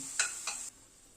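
Potatoes frying in oil, with two brief scraping stirs over a steady, soft sizzle that drops lower partway through.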